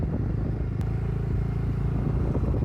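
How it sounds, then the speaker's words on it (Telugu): A tractor ploughing a farm field, with a steady, loud low engine rumble and faint clatter running throughout, close by and without voices. "ఇక్కడైతే ట్రాక్టర్ దున్నుతా ఉంది"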